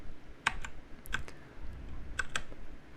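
Keys tapped on a computer keyboard while working on an AI server, a few sparse clicks spread out with pauses between them, close and fairly quiet with no talking.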